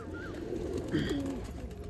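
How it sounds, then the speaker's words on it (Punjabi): A pigeon on a rooftop loft gives soft, low cooing calls, fairly faint and close, over quiet background noise. "ਇਹ ਕਬੂਤਰ ਜੀ ਕਪੂਰਥਲੇ ਵਾਲਾ"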